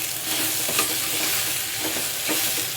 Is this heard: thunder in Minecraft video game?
no